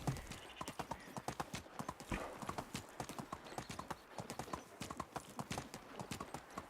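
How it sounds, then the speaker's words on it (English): Donkeys in the medieval farming game Medieval Dynasty clop their hooves in a quick, irregular rhythm of faint knocks over several seconds, with low background sound throughout. "sound of the donkeys is bad enough"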